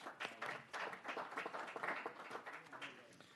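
A round of applause breaks out in a legislative committee room, with steady moderate clapping from a group of people lasting a few seconds.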